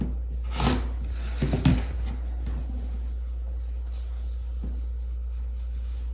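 Scissors trim the fabric edge of a pinned quilt block for a tulip design, giving a few short rasping snips near the start, then quiet handling of the cloth.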